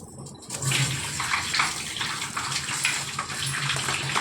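Tap water pours steadily into a sink while tomatoes are washed for a pickle, a continuous close splashing rush after a brief quieter start, with no one speaking.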